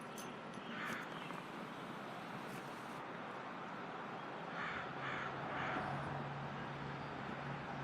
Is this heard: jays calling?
yes